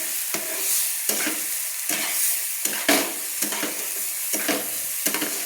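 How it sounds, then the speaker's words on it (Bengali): Spice paste for a potato and prawn curry being sautéed in oil, sizzling steadily with repeated scraping stirs of a spatula at a regular rhythm, close and fairly loud, no voices. "দেখুন বন্ধুরা মশলাটা কষানো হচ্ছে"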